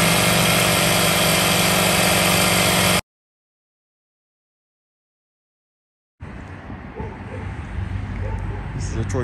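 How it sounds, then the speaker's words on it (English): A Troy-Bilt Horse rototiller fitted with a Predator engine runs with a steady mechanical drone, cuts to silence for a few seconds, then resumes rougher and closer, amid some speech. "Troy built horse with the Predator engine."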